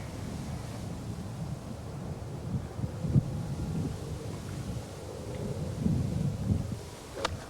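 Steady wind buffets an open golf course at the 1986 LPGA Nabisco Dinah Shore, a continuous low rumbling roar with a few stronger gusts and no voices.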